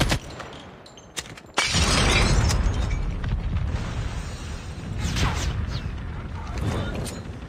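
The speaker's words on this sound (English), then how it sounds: "Flashbang." A flashbang grenade goes off in a tactical shooter game: a sharp burst followed by a loud, sustained ringing wash of noise, after a few brief clicks.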